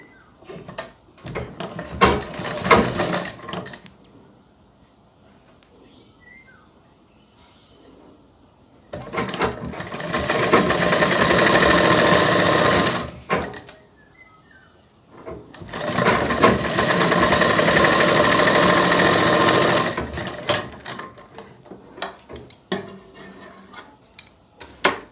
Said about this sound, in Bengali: তো আমি সেলাই দুই প্রান্তে দিচ্ছি,